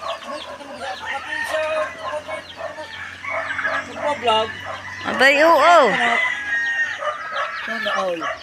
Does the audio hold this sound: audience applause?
no